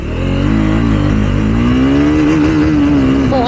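A Triumph motorcycle accelerates hard through the gears, its engine note climbing steadily in a loud, continuous rising roar close by, with no talking.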